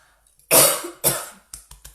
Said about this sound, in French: J'avais pas toussé de la semaine